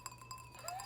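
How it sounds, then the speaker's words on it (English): Fingernails tapping a wine glass, giving a few light, quiet clinks with a faint ringing tone that slowly fades. "I like that I clinked with my teeth and you went for the fingernails."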